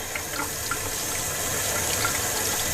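Running tap water splashes steadily over an incense bowl being rinsed and soaked, a continuous close hiss of flowing water with no talking.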